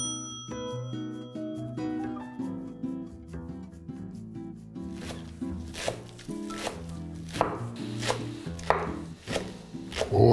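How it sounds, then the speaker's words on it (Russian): A knife chops dill and green onion rhythmically on a board, sharp repeated taps growing denser and louder, with a steady musical background underneath. "иду нарезать укроп и лук"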